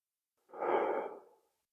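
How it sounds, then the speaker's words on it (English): A single soft, breathy Ujjayi ocean breath drawn through the nose during a seated chair yoga class, rising and fading over about a second, close and quiet with silence around it. "we'll go into our Ujjayi breathing by inhaling through the nose and exhaling through the nose"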